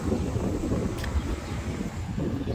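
Gusty wind at Praia da Rocha beach in Portugal buffets the microphone in a continuous low roar, rough and close, with no voices.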